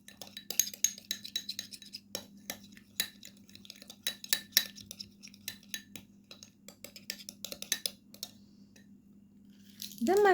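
A spoon clinks and taps rapidly against a small bowl while milk is stirred into a homemade wrinkle-remedy mixture, a quick, uneven run of close metallic and glassy ticks with faint wet squishing.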